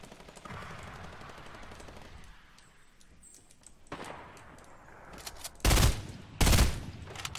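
Burst rifle gunfire in the Fortnite battle royale video game, with two loud, short bursts near the end, after a stretch of quieter distant game ambience and scattered shots.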